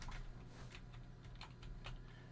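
Keys clatter on a Daewoo computer keyboard during a ZX Spectrum game session, a quiet run of irregular clicks and taps close by with a low hum underneath.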